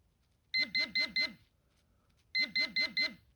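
A Dr. Otek pinpointer sounds two bursts of four quick, sharp electronic beeps, separated by a short pause, as it detects a $2 coin; the beeps are clear and close.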